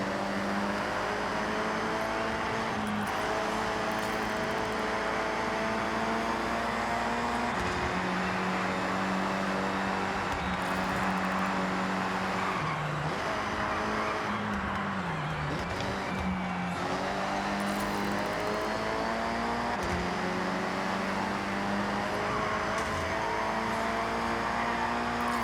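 Game engine of a 1990 Nissan Pulsar GTI-R racing in B Class in Forza Horizon 6, a steady loud drone rising and falling through gear changes and corners, with occasional tyre scrub, continuous throughout.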